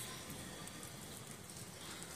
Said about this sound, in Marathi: आता पाऊस चांगलाच मोठा येतोय